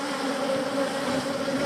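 A dense, continuous drone of many large honeybees swarms loudly at an open hive, a close and steady hum that does not let up.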